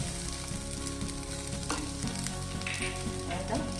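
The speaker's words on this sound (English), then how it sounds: "I will be frying it a little bit along with the onions and the chilies." Ginger paste frying in a pan with softened onions and chilies, a steady close sizzle with occasional stirring scrapes throughout, no voices.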